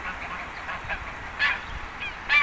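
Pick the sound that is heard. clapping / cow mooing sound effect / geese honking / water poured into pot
geese honking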